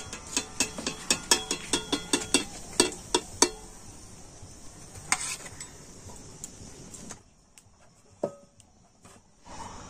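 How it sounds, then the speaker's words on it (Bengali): Luchi puffed flatbread deep-frying in hot oil, with a quick run of sharp clinks and taps over a hissing fry, easing into quieter sizzling with an occasional knock. "আর এইভাবে সমস্ত লুচিগুলো আমি ভেজে নেব।"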